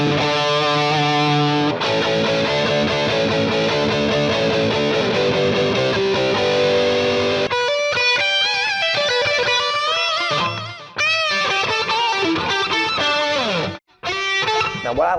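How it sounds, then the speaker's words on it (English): Sustained electric guitar chords through a Headrush MX5 pedal's reverb ring out with a washy reverb tail, strummed and picked loudly for the whole stretch, with a brief drop near the end. "We just got reverb right now."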